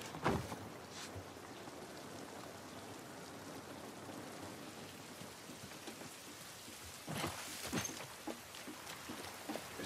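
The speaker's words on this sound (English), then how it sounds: "This rain ain't gonna do us any good." Steady rain pours in The Last of Us Part I video game. Low thunder rumbles swell at the start and again near the end over the constant patter, with no voices.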